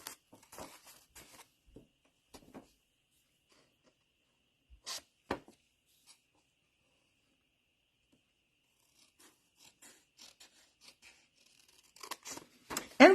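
Designer paper for a card envelope is cut by hand in short, quiet scraping and tearing strokes, in scattered bursts separated by near silence.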